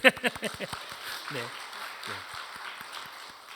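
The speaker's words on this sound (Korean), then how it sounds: "네, 박수." A church congregation gives a short burst of applause at a Wednesday worship service, loud at first and quickly fading, followed by a pastor speaking.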